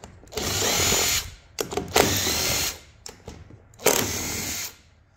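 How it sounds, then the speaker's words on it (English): An impact wrench spins loose 10mm bolts on an Extreme Motus off-road wheelchair wheel, three loud close whirring bursts separated by short pauses, with no talking. "You could use a Y tool. I have my impact."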